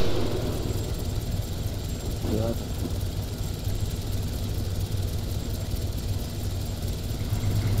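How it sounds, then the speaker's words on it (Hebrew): A steady, droning rotor hum of a helicopter in the video game Arma 3 fills the whole stretch, continuous and fairly loud, with voices talking over it. "מסוק, אני שומע מסוק"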